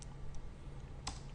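A few soft keystrokes tapped on a computer keyboard while entering a web address into a browser, with light, sparse clicks over a low background hum.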